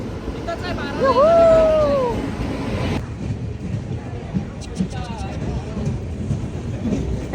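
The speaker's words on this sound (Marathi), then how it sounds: "train is coming" A Tejas Express train rumbles in with a long rising horn blast, then rolls on with rattling wheels while people talk nearby on a busy platform.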